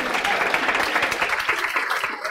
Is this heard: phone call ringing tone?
no